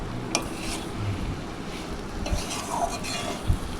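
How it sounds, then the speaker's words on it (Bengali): Ash gourd cooked with sugar is stirred in a pan with a spatula, giving soft scraping and occasional light clinks over a faint sizzle, quiet and close with no talking. "চিনি দিয়ে চাল কুমড়োটা নেড়ে"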